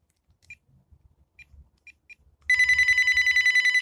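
A few soft clicks and taps, then a VTech CS5111 cordless phone starts ringing with a loud, rapid electronic trill.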